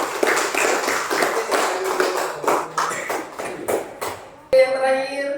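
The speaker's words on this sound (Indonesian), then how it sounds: "berikan aplaus untuk kelompok 1" Classroom applause for group 1, a run of uneven claps that fades near the end as a voice begins speaking.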